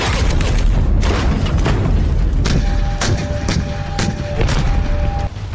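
Artillery guns firing in an Indian Army field exercise at the eastern border: repeated heavy booms and sharp reports over a constant loud rumble, with a steady tone running through the later part.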